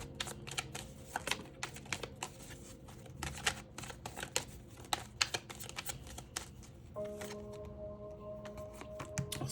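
Tarot cards are shuffled and handled close by in a quiet room, a dense run of crisp riffling flicks and slaps with brief pauses and a softer stretch near the end, with no voices.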